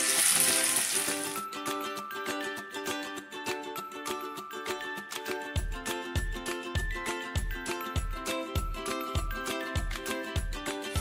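Butter simmering in a pan while being cooked down into ghee, a steady close bubbling sizzle with fine crackles throughout, joined midway by a regular low thumping beat, with no voices.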